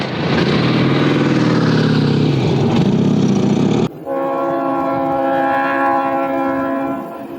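A Delaware and Hudson train rumbles past loudly up close, then a sustained horn blares as the roar continues.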